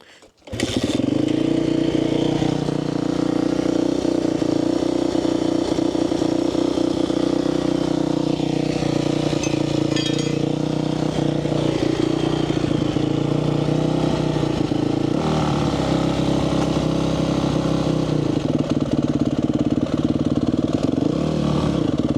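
Yamaha YZ250F dirt bike running while ridden, a loud, close four-stroke engine drone held fairly steady throughout, with small shifts in pitch as throttle changes and a brief dip near the middle.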